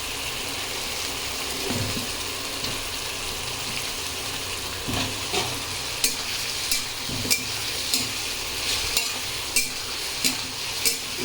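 Cut potatoes hit hot oil with onion and garlic and are stirred, giving a continuous sizzle broken by regular scraping strokes of a spatula against the pan, close up and without talk.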